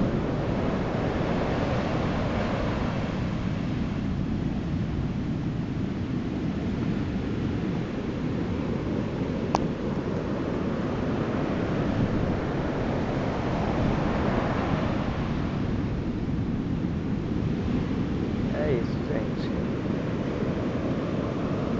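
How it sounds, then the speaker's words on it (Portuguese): Sea waves breaking on a sandy beach at Praia Seca in Araruama, a continuous loud roar of surf with rushing wash and some wind buffeting the microphone, no voices heard. "Tá vendo, gente, as ondas?"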